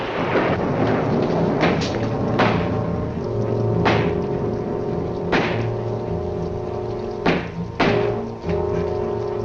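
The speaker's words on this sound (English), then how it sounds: "I closed that window when the storm started." Heavy storm noise with a steady rumble and several sharp cracking bursts of thunder, loud and close, no talking.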